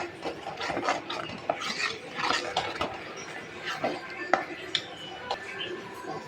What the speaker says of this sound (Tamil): அடுத்து குழம்பு மிளகாப்பொடி அதையும் சேர்த்துட்டு நல்லா கலந்து விட்டுருங்க